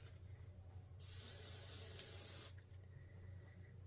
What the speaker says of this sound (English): I'm actually going to spritz this with a little hairspray